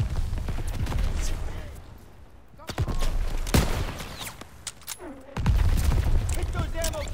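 Gunfire and explosive blasts in a Call of Duty game, scattered loud bangs and bursts over a rumbling battle background, with game voices speaking in between.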